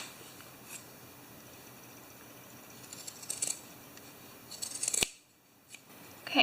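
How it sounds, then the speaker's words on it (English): Scissors snip off excess fabric while a Pokeball plush is being made, giving several soft, close crisp cuts with a sharper snip near the end and a brief quiet pause. "And then I'm just going to cut off this excess fabric here."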